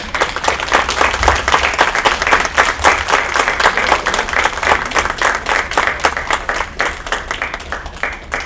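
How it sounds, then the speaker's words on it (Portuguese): Loud, sustained round of applause from an assembled audience at a medal award ceremony, many hands clapping in a continuous dense rhythm close to the microphone for several seconds. "Salve de palmas."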